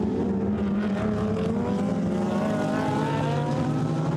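GT race cars at full throttle in a Blancpain GT Sports Club qualifying race at Paul Ricard, 2018: a loud, steady engine drone with shifting harmonic whine as cars pass, continuous throughout.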